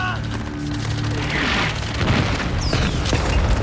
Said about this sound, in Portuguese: Agora vinha o bombardeio da artilharia.